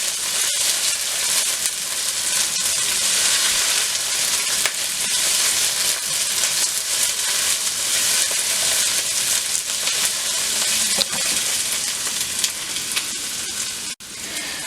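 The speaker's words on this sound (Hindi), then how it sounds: "और उसको थोड़ा सा इस प्याज के साथ भूनूंगी।" Diced, skinned tomatoes frying with onions in a pan give a steady, even sizzle and hiss that runs unbroken throughout, with no talking.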